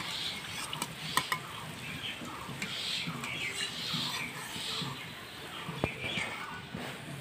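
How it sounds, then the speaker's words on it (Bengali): Potato jalebi sizzling in hot oil as the pieces are lifted out, a steady crackling fry with scattered sharp clinks of a utensil against the pan, close and fairly loud. "জিলাপি আমি ভেজে নিয়েছি, এবার তুলে নিব।"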